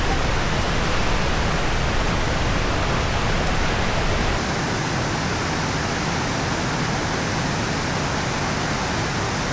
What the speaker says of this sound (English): This is probably one of my favourite waterfalls in the Brecon Beacons.